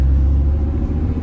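Audi R8 cruising through the streets of Monaco, a steady low engine rumble held close and even throughout, with no voices over it.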